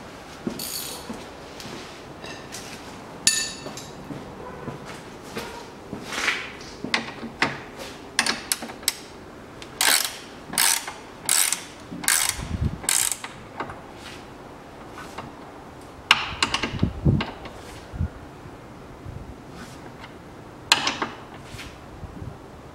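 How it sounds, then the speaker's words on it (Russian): A wrench tightens the nut on a steering tie rod end of a 1992 Volvo 740 2.3, making scattered sharp metallic clicks and ratcheting taps in irregular bursts against a quiet garage background. "Зажимаю гайку."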